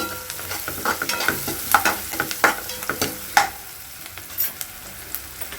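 Onions with a pinch of turmeric frying in a pan as a spoon stirs them, sharp scraping clacks breaking in at an uneven rhythm over a continuous sizzle, close and fairly loud.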